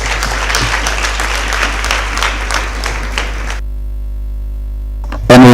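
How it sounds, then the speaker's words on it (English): An audience at a communication studies institute event claps in a thick burst that cuts off abruptly partway through, leaving a low steady hum and faint tones before a loud sudden noise at the end. "A round of applause"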